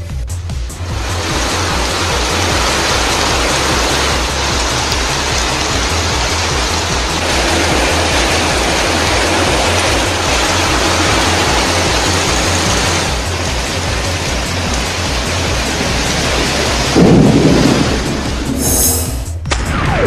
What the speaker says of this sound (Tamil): கனமழை இரவு முழுவதும் கொட்டியது